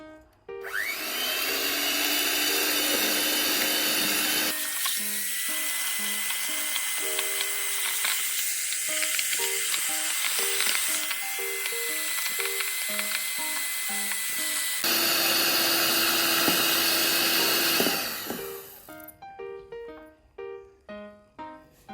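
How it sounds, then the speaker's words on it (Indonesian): An electric hand mixer beats egg yolks for banana cake batter, its motor whirring loud and continuous for close to twenty seconds, the pitch and load shifting as the beaters churn, then stopping and leaving a few scattered clicks. "Kuning telur diaduk pakai mixer."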